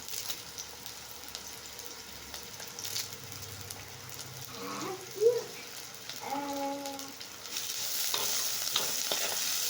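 Fresh curry leaves with onion sauté in a pan for carrot poriyal, a soft continuous sizzle with stirring scrapes, a few faint tonal squeaks midway and a brighter hiss rising toward the end.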